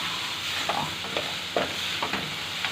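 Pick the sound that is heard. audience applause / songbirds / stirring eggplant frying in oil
stirring eggplant frying in oil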